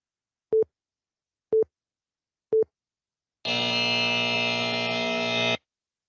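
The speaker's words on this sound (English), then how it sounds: "That is a buzzer sound. Big, long sound is there." Three short identical beeps evenly spaced, followed by a loud, sustained harsh buzzer tone lasting about two seconds, used as a warning signal in a debate competition, with no talking.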